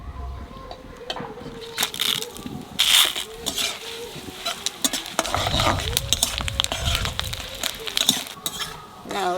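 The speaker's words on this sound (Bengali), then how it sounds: "তেলের উপর দিয়ে দেবো শুকনো লঙ্কা, তেজপাতা, জিরে, 5 ফোড়ন।" Dry red chili, bay leaf, cumin and Bengali five-spice crackle and sizzle in hot oil for khichuri, with clinking utensils and stirring throughout and steady frying noise.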